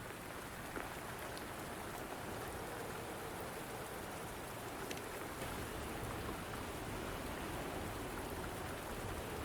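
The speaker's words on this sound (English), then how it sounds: "Are you trapped here by the rain?" Steady rain pours in the video game Wuthering Waves, a dense, even hiss of drops on surfaces that continues unbroken throughout.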